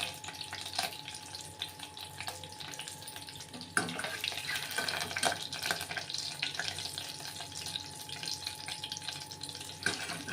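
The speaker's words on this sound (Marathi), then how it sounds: "अशी अंडी फ्राय करून घ्यायची तेलामध्ये" Eggs fry in hot oil in a pan, giving a continuous crackling sizzle with sharper spatters and pops that grow busier partway through.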